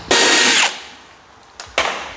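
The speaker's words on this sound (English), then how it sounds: "There was no bits of Peter on the tip of the drill bit here" A power drill whirs loudly for about half a second while drilling a rivet hole in a snowmobile, then two short bursts follow after a pause.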